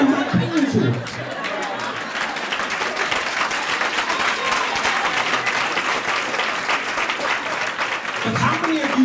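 Sustained applause fills a luncheon room, dense clapping from a large audience mixed with chatter and some laughter, with a voice speaking briefly at the start and end.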